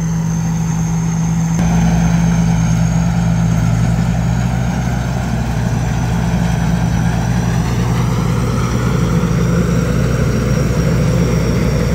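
Panjaroen combine harvester engine running in an open field, a steady low diesel drone with a constant hum, close and unbroken throughout.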